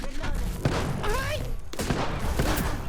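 Rapid Apex Legends gunfire bursts rattle close and loud over a few seconds, mixed with excited talk and shouting from players.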